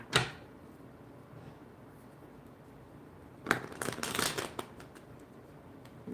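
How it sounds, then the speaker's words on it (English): Tarot cards being shuffled during a live reading, a quick riffle at the start, then a louder run of rapid papery riffles and slaps near the end, heard close and alone. "A lot of shuffling for Aquarius today."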